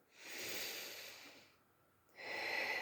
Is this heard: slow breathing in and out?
yes